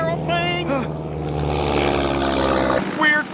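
A cartoon propeller airplane drones steadily in flight, its engine hum running the whole way beneath excited cartoon voices.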